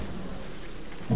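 Rain falls steadily in the Fortnite video game, with a low rumble of thunder swelling up at the very end.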